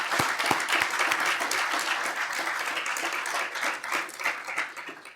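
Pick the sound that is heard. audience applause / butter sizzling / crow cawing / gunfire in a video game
audience applause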